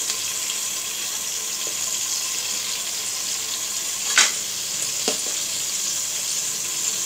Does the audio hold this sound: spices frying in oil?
yes